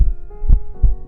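A deep, booming heartbeat sound effect plays on its own, with three heavy low thuds at an even, steady rhythm over a faint background hum.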